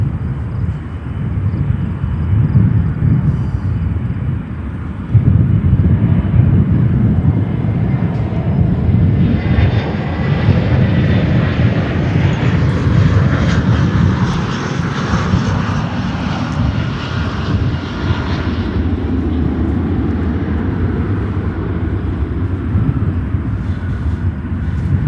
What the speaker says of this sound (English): Next inbound, we have another Frontier Airbus 321 coming in from Orlando,